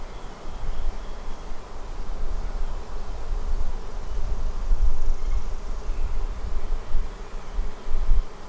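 A swarm of honeybees buzzing steadily nearby, a continuous droning hum that swells and fades slightly as insects move around.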